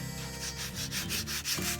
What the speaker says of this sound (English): I've just taken the veneer and I've given it a light sanding